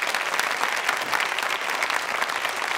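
An audience at a university consumer-protection quiz show breaks into sustained, dense applause, many hands clapping together in a steady wash without pause.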